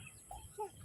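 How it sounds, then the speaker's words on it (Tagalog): Chickens at a flood-raised poultry farm in the Philippines, a couple of short faint clucks over a quiet low background hum. "Yan yung farm niya ng mga manok."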